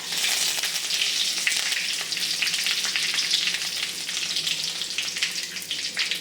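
Curry leaves and dried red chillies frying in hot oil for pulissery: a loud, dense crackling sizzle that holds steady throughout with faint stirring ticks, close and alone.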